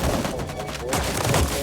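Intense gunfire from a movie scene rattles in dense, overlapping bursts, loud and continuous across the short stretch, with booming impacts mixed in.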